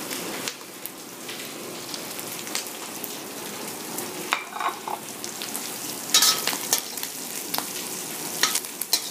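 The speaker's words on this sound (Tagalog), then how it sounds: "Now I'm going to put my garlic." Garlic sizzles in a pan of hot oil while cooking pancit, a crackling, rain-like patter with scattered pops and a few sharper stirring scrapes.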